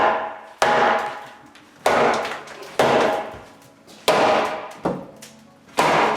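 Repeated heavy whacks of a 2-pound sledgehammer against a 2x4 during house demolition, about six loud, sharp impacts spaced roughly a second apart, each ringing briefly before the next blow.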